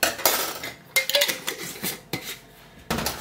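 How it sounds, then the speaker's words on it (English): A metal coffee teaspoon stirs yeast in a bowl to hydrate it, sending out bursts of close, bright clinking and scraping against the sides in several short rounds. "I'm just going to give it a little light mix to help that yeast hydrate"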